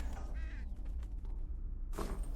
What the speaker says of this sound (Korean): 까마귀 소리가 난다.